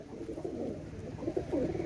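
Top-quality pigeons coo steadily in a low, rolling murmur, several soft throaty calls overlapping at close range with no talking.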